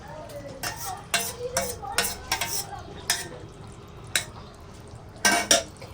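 A spoon stirs almond milk into a cauliflower and paneer curry in a pot, with repeated bursts of scraping and metallic clinks against the pan over a faint background sizzle.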